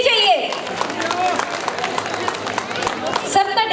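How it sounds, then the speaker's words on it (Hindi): Guests at a sangeet celebration clap and chatter as a dance performance begins, with scattered rhythmic clapping and crowd babble under the loud voice of a host speaking over a microphone. "तालियों की शोर तो ऐसे ही बजनी चाहिए"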